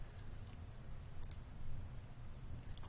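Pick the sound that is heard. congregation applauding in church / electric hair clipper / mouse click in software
mouse click in software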